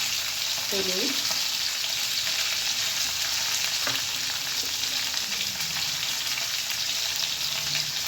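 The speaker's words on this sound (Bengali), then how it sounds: "এবার আমি সব কিছু একসঙ্গে খুব ভালো করে ভেজে নেব" Ingredients for a Bangladeshi rui fish curry fry in hot oil with turmeric. A steady, close sizzle runs the whole time, with a few brief scraping stirs of a utensil and no one speaking.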